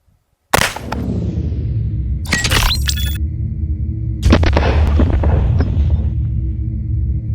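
A gunshot rings out and shatters a watermelon in an outdoor target-shooting setting, a sharp loud crack followed by a second impact and later a rumbling burst, each trailing into sustained wind-like noise.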